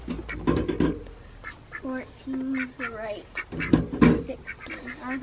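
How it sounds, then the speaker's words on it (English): Ducks near a chicken coop quack repeatedly in short nasal bursts, close and clear, interleaved with people talking. "Hello, ducks."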